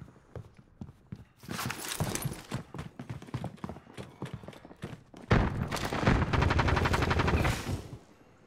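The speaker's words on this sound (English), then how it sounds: "Somebody's shooting at me." Rapid gunfire from a multiplayer shooter video game, loud bursts of repeated shots that thicken into a dense volley in the second half, mixed with clattering footsteps and game noise.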